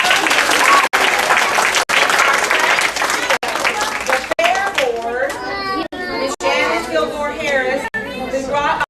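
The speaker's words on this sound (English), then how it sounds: "Let's give her a big round of applause." Loud audience applause at a summer reading program event, with children's voices and cheering mixed into the steady clapping before kids' chatter takes over.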